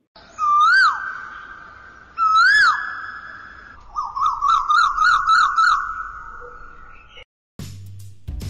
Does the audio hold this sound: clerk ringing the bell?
no